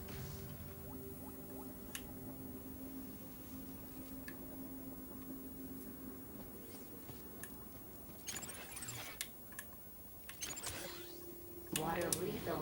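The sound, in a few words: water refilling in video game Beyond a Steel Sky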